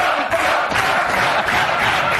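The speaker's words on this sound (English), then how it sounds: "It's a crowd." A crowd cheers and shouts loudly, a dense continuous roar of voices with no pauses across the short stretch.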